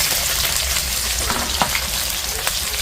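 Sliced onions sizzling in hot oil in a pan for a Bengali chicken curry in a home kitchen, a loud continuous frying hiss with occasional stirring clinks, no talk.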